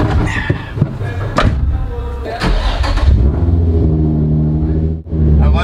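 A Nissan 350Z drift car's engine fires up with a few thumps, then revs and settles into a loud, rough idle close by, dipping briefly before picking back up.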